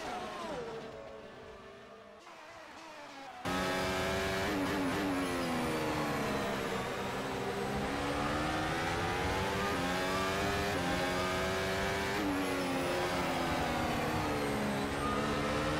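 Racing cars in a sim racing game at a Germany round of a pro championship, engines screaming loud and continuous with rising and falling revs as they brake late and fight for position, a sharp jump in volume after a quieter opening.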